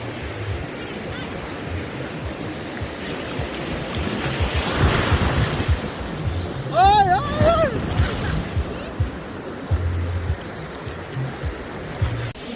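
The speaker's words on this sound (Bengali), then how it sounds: "এখানে ঢেউগুলো খুবই ছোট ছোট আর একটু শান্তই মহাসাগরটা" Small, calm ocean waves break on the shore in a steady, rushing wash, with wind buffeting the microphone and a brief high, wavering call rising midway.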